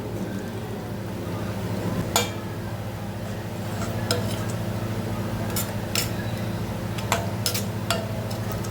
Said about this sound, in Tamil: அது வரைக்கும் கொஞ்சம் கிளறிட்டே இருங்க, அடி பிடிக்காமல்